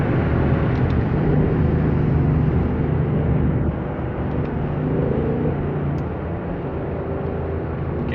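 Ford Mustang GT convertible rental car engine idling and rolling in traffic, a steady close low rumble that holds loud and dips slightly partway through, with no voices.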